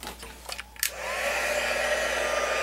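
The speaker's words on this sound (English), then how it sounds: "I am going to get my heat tool." Heat tool for card crafting switches on after a few faint clicks and handling noises, then blows a steady, loud whooshing stream of hot air with a faint whine running underneath.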